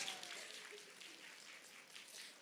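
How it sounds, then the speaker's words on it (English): Audience applause for a chef instructor at a Pennsylvania culinary stage event on Potato Day, a steady, moderately distant patter of many hands clapping throughout, with no talking over it. "Can we have a round of applause for the chef instructor"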